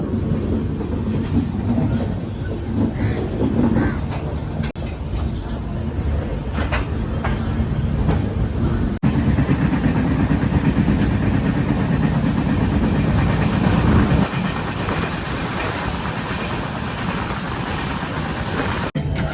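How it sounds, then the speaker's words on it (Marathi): Loud continuous rumble of a passenger train running near Panvel toward Konkan, with rhythmic rail clatter and a shift in tone partway through, no talking. "समोरची जी ट्रेन बघताय ती आहे दिवारोहा"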